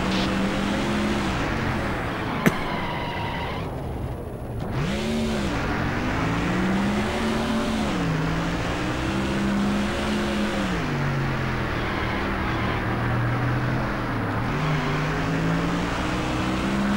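A race car in the NASCAR Thunder 2004 video game on the Sonoma road course holds a steady, loud engine drone that rises and falls through shifts, with one sharp click early on and no voice over it.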